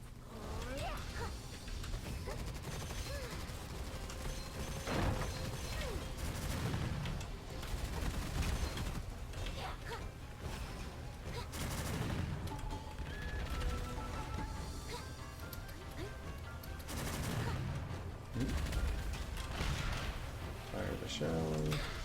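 Constant gunfire and explosive blasts from the shooter game Gunfire Reborn during a boss fight with the Fox hero, layered as dense combat noise under steady talking.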